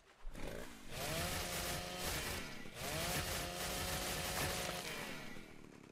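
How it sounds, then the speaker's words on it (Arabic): A chainsaw in ARK: Survival Evolved revs and cuts steadily for several seconds, loud and continuous with a droning, buzzing engine tone that dips briefly midway before resuming. "ننزل هسه على راحتنا نضربه منشار"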